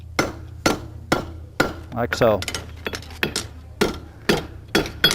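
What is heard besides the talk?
hammer striking a steel horseshoe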